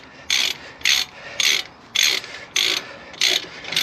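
Ratchet wrench tightening the 214 slide pin bolts on a Nissan Juke brake caliper, heard as about six short, loud bursts of rapid clicking, each roughly half a second long and evenly spaced with brief pauses between, close up with no talking.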